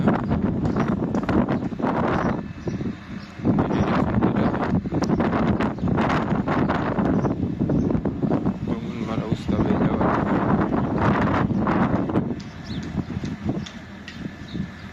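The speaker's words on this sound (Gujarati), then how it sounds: "પવન બહુ છે એટલે અવાજ ઓછો આવે" Strong wind buffets the microphone in loud, continuous gusts at a working power station, with a roaring rumble that drops briefly before surging again.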